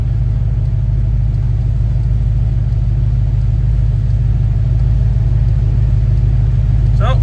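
A vehicle engine rumbles steadily at low speed, about 5 miles an hour, on the way to cut hay, a constant loud drone with no speech heard.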